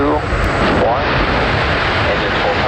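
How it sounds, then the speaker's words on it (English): A SpaceX Falcon 9 lifts off from LC-39A at Kennedy Space Center on the Starlink Group 4-37 mission, its engines making a loud, steady, broadband roar, with a voice speaking over it. "Engines full power and liftoff of Starlink 437."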